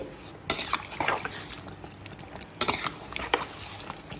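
A spoon stirs dal with salt, turmeric and water in a pressure cooker pot, producing two bursts of metallic scraping and clinking against the pot's sides with quieter gaps between, close by.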